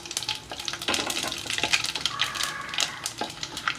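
Whole spices, including bay leaf, mace, star anise, cardamom and cinnamon, sizzle and crackle in hot oil as they are tempered for Dindigul biryani, with stirring clinks and light pops over a steady frying hiss.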